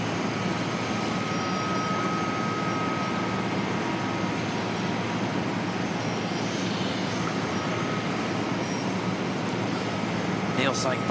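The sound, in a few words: Singapore Airlines A380 jet landing at Auckland Airport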